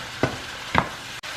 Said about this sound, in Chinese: 把刚刚炒的这个牛肉跟它放回锅拌在一起，再略调味就可以了